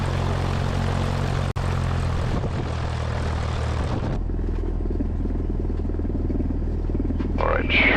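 A Cessna Skyhawk's propeller engine roars steadily at full throttle for a runway takeoff, loud and continuous in the cabin, with a sharp click early on and the tone shifting to a lower, rumbling drone partway through.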